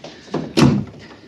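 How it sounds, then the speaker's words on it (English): A heavy door is shut as a radio drama sound effect: a softer knock followed by one loud, close, booming thud that fades quickly. "help me close the door."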